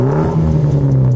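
A Mitsubishi Evo X fitted with a blue-tip Spec D exhaust gives a close, steady engine drone with strong low harmonics, held briefly without any voices.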